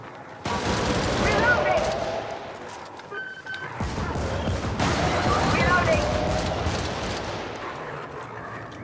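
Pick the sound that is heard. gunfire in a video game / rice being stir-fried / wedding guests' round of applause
gunfire in a video game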